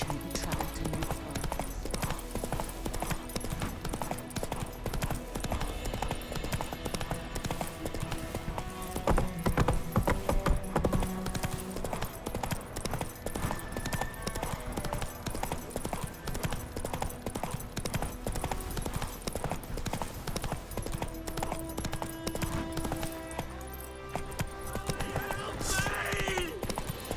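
Roach, Geralt's horse in The Witcher 3 on PS5, gallops with a steady clip-clop of hoofbeats under a dense game soundtrack and ambience, with a brief whinny.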